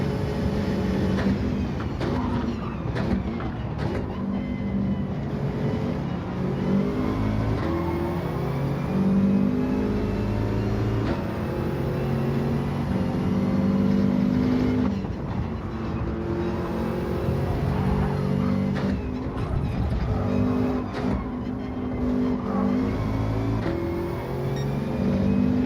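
Subaru Impreza WRX engine in a racing video game, a steady loud drone with shifting pitch as the car revs and accelerates, continuous throughout with no talk.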